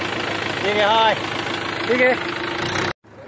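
A tractor engine idles and runs steadily nearby, a mid-pitched mechanical drone with a slight knock, heard under a man's speech until it cuts off abruptly near the end.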